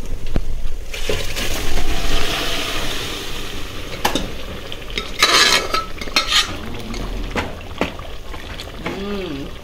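Boiled mutton is stirred into hot tempering in a pan, with a spoon scraping and clinking against metal in irregular strokes and soft sizzling underneath, close and fairly loud.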